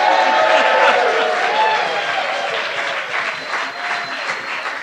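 A live debate audience applauds and cheers loudly to cast a vote, a dense wash of clapping and crowd noise that starts strong and gradually tapers off over a few seconds.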